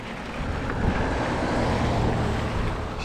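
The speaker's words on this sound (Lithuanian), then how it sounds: "bet vėjo yra" Wind blows steadily outdoors on a warm day, a broad continuous roar buffeting the microphone at fairly high level, with small swells but no breaks across the whole stretch.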